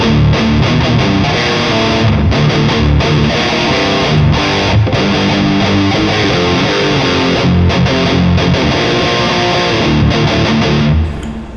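Distorted electric guitar chugs a heavy palm-muted power chord riff, loud, dense and continuous for the whole stretch with brief rhythmic gaps between the chords.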